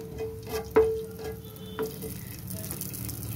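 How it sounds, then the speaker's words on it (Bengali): White cumin seeds tempering in hot oil left from frying potatoes, a steady low sizzle with a few sharper crackles and pops standing out, close and alone with no talk. "আলু ভাজার তেলেই আমি সাদা জিরে ফোড়ন দিয়ে দেবো।"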